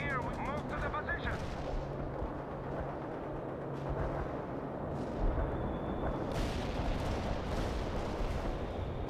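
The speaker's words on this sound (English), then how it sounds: "Artillery barrage." An artillery barrage in the Soviet Assault campaign of World in Conflict pounds continuously with layered booms and rattling gunfire, sharp impact bursts and a whistling tone over the din, with game voices talking underneath.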